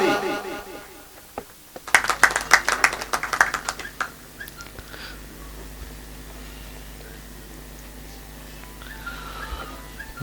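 Audience at a mushaira poetry gathering breaks into a short burst of brisk clapping that fades within a couple of seconds, leaving room tone and a faint hum; talk is heard just before the applause starts.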